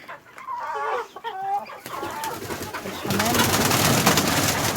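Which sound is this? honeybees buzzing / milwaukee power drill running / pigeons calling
pigeons calling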